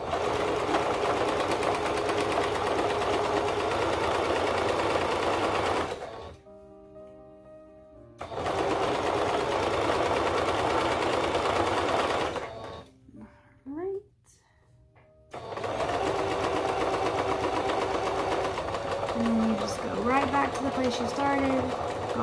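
A sewing machine stitches a crop top in loud continuous runs, stopping twice for short pauses before a final run with a brief backstitch; faint voices are audible during the quiet gaps.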